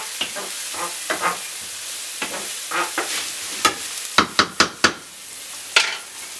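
Minced meat sizzles in a very hot pan while being stirred and moved around, with steady frying hiss and a series of sharp scraping clacks of the utensil against the pan, no talking.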